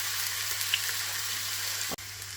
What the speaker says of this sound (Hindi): जैसे ही घी गर्म होगा तो उसमें ओनियन डाल देंगे।